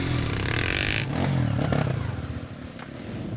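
A motorcycle engine grinds and revs while riding over rocky, muddy terrain, with clattering and scraping close by throughout.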